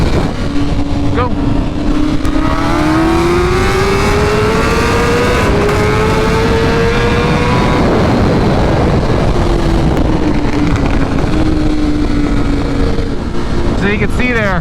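A 2023 BMW S1000RR motorcycle accelerating hard in a roll race, loud and close with rising engine pitch through the gears, a brief shift dip partway, then climbing again over continuous wind rush.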